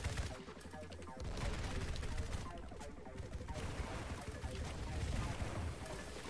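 Rapid bursts of gunfire in the Roblox game Merc Fleet, dense overlapping shots and crackling volleys forming a loud, continuous din throughout.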